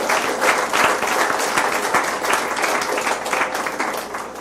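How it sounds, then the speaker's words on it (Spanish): A congregation applauds inside a church during a Spanish-language sermon, dense steady clapping from many hands filling the room for several seconds. "Denle un aplauso al Señor Jesús."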